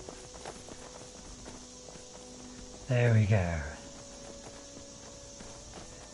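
Horse hooves in Skyrim, on a straight road, clip-clop in a steady, light rhythm throughout, moderately close. Someone speaks briefly over them partway through.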